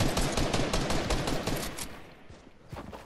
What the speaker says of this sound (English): this guy's shooting through everything